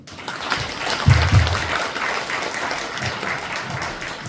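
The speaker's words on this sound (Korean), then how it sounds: "지방시대위원회 신용환 부위원장님 뜨거운 박수 한번 다시 부탁드리겠습니다." An audience at an academic conference lecture hall at Seowon University applauds the vice-chairman of the Presidential Committee on Regional Era, warm continuous clapping at a steady level throughout.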